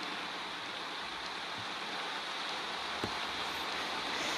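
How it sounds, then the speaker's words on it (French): Steady rain hisses continuously in Euro Truck Simulator 2, an even, fairly faint wash of noise with no speech. "notre dernier voyage pour venir, ce sera que de la pluie, je suppose"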